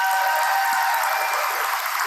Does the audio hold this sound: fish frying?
no